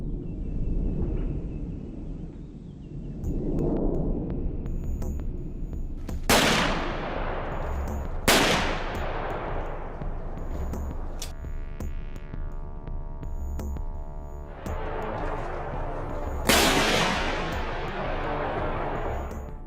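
Winchester .308 rifle fired while hunting wild hogs outdoors, several sharp loud shots spaced a few seconds apart, each with a long fading echo over a low background hum.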